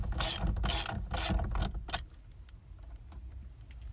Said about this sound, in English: Take a 21mm with a ratchet, put it on here, hold the steering wheel to the right while you loosen to the left.